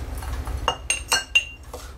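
A glass jar clinks several times in quick, uneven succession, bright and close, while homemade foaming bath salt is being prepared.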